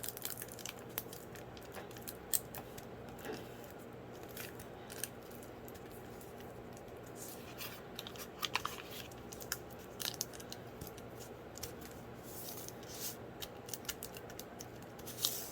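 Scissors trim around a piece of parchment paper during a paper craft project, giving faint, irregular snips and light crinkles scattered across a quiet, close background.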